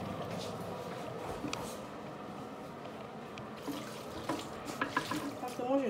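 Hot water poured near a sink while preparing liboke of ngoulu (fish) with poso and limbondo leaves in a home kitchen, a steady continuous splashing stream with a few brighter clinks and gurgles toward the end.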